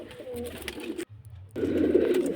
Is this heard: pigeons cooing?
yes